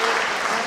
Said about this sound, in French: Un tonnerre d'applaudissements pour Zoé, s'il vous plaît.